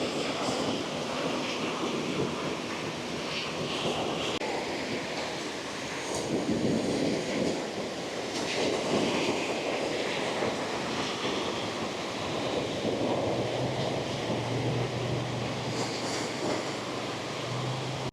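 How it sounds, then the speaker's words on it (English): Choppy ocean surf at Clearwater Beach under red-flag conditions rolls in a steady, washing roar, mixed with wind buffeting the microphone and a faint distant drone. "As we can see, the waves are a little choppy. A little more choppy than usual."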